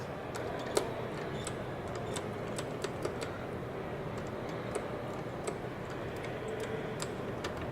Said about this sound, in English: You can hear the relay clicking